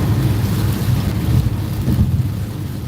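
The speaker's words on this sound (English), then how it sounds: "It has been pouring rain consistently the whole time since I left Mariposa County." Heavy pouring rain heard from a moving car on a California highway, a loud, dense rushing roar with low rumble and wind buffeting throughout.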